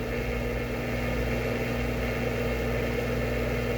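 A Vevor mini lathe runs at higher speed, around 1,260 RPM, giving a steady, even motor hum with a constant tonal drone and no breaks, heard close and without talking.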